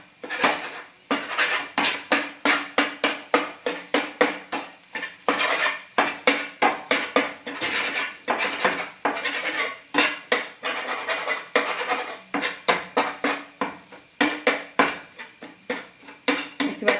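Metal spatula chopping cooked egg into small pieces in a pan for an egg and potato curry, a fast, steady run of sharp metallic scrapes and clinks.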